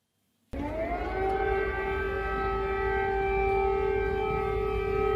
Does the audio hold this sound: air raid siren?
yes